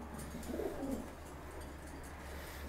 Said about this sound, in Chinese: 看到这个咕咕叫的了吗？